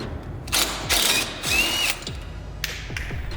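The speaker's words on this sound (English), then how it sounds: "We're going to be using a 16mm socket on our impact." An impact wrench with a 16mm socket works loose the sway bar end link on a Toyota A90 Supra, firing several short loud rattling bursts close by with pauses in between.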